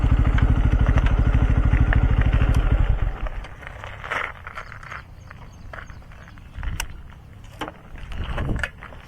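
A 250cc motorcycle engine idles with a loud, rapid, even putter for about three seconds and then cuts off, leaving quieter outdoor rustles and scattered knocks.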